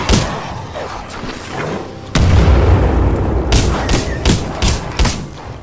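Titanfall 2 gameplay with a shotgun going off: a heavy boom that lingers in a low rumble, followed by a quick series of sharp, loud blasts and thuds close to the player.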